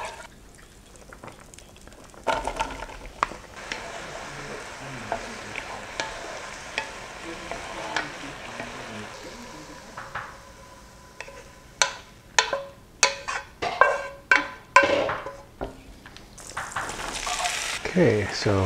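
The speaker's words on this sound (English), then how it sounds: "We like to saute our mushrooms a bit before we add them to the mix." Mushrooms sauté in a pan with a soft, quiet sizzle at first, then a run of sharp spatula scrapes and taps against the pan grows busier toward the end.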